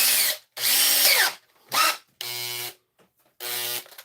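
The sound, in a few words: electric drill running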